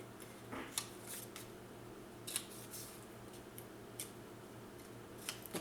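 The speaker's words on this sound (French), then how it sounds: "je vais biseauter un petit peu mes petites bandes de collage ici" Scissors snip paper gluing strips at an angle for a scrapbooking album, a series of faint, close, crisp cuts spaced irregularly over quiet room tone.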